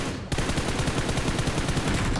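Rapid automatic gunfire from the BGMI battle royale game bursts in abruptly and keeps rattling in a fast, dense stream for a couple of seconds.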